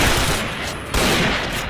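A Kriss S.V submachine gun in a video game fires in burst mode, a dense, loud rattle of rapid shots that fills the short stretch with a slight break midway.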